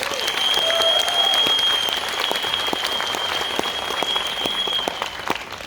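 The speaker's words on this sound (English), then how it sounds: "let's give a round of applause to ourselves and to our management" A seminar audience gives a sustained round of applause, dense steady clapping filling the room close by, gradually thinning toward the end, with a faint tone lingering underneath.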